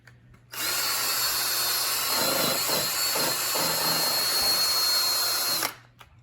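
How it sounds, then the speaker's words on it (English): A power drill polishing a 2007 Toyota Camry Hybrid headlight with a 3M restoration kit whirs steadily at high speed for about five seconds, starting and stopping abruptly, its pitch dipping briefly as it bears against the lens. "Turn my drill down just a little bit."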